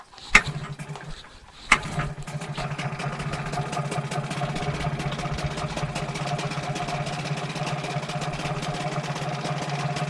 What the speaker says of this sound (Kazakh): Кетті мотор.